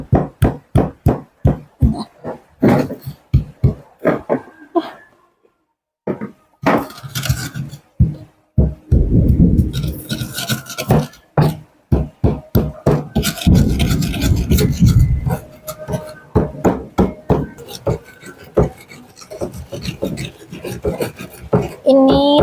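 Rhythmic rough scraping and pounding of a stone pestle on a mortar, grinding tempeh and smoked fish into sambal, with repeated strokes, brief pauses and bursts of heavier grinding, close and loud.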